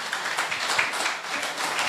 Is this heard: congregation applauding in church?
yes